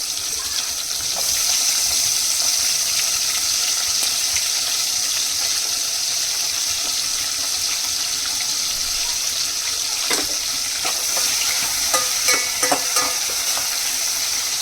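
Chopped onion and green chillies sizzle steadily in a hot pan for a curry, with a continuous close frying hiss and a few scraping stirs near the end; no one speaks.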